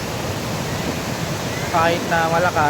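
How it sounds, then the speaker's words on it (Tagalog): Broad, steady wash of ocean surf at high tide on a Boracay beach, continuous and fairly loud, with a person talking over it near the end. "Saka high tide ngayon, medyo lumapit yung tubig."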